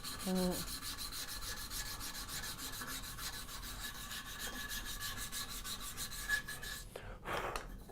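Steady raspy rubbing of rough sandpaper across wood, a continuous scratchy texture that runs almost unbroken, ending with a brief louder scuff near the end.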